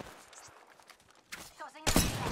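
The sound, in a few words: gunfire in Apex Legends video game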